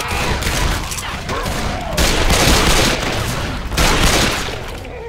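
Continuous bursts of gunfire in the zombie shooter Left 4 Dead 2, loud, dense volleys of rapid shots with brief lulls between bursts.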